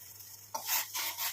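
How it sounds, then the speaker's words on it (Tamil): Bubbling, roiling water with cloves in a pot on a stove, a soft broadband hiss that swells in uneven bursts after a quiet start, with a low steady hum underneath. "இப்போ பாருங்கள், நல்லா கொதிச்சுக்கிட்டே இருக்குது."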